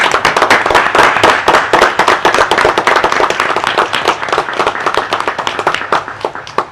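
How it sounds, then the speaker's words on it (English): A small group claps in a city council chamber after a resolution passes, brisk and close, the clapping thinning out toward the end. "Let's give that resolution an applause, y'all."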